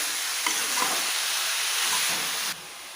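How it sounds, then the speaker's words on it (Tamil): Duck meat fries in hot oil and is stirred in a pan while a curry is cooked. A steady, loud sizzle continues with occasional scraping stir sounds, then drops in level near the end. "இப்படி நல்லா எண்ணெயிலே வணங்கணும்"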